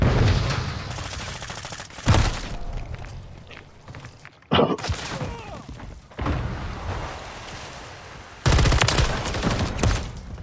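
Bursts of gunfire in Call of Duty: Modern Warfare III, loud volleys that come and go in several separate rounds with short quieter gaps and some thuds between them.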